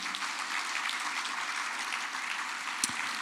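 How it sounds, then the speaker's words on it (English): Audience at a South Florida Muslim organizations' coalition event gives a round of applause, a faint, even wash of many hands clapping throughout, heard from a distance in a large room, with one sharper sound near the end. "Let's give them a big round of applause, all of them."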